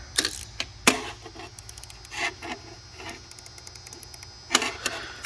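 A Craftsman dual ratcheting wrench, set beside a 100-tooth Capri flex-head, gives a few close, dry bursts of fine clicking, with quick runs of light ticks and some handling noise between them.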